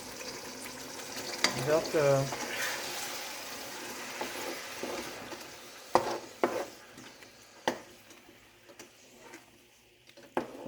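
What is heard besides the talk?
tomato poured into a pan, frying and sizzling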